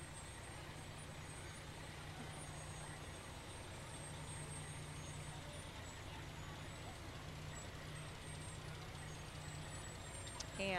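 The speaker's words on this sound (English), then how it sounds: "And another ladder truck coming up from the city of Rittman." A fire department ladder truck from the city of Rittman rolls by in the 2005 Blue Tip Parade, giving a steady, moderately distant engine drone that holds throughout with no talk.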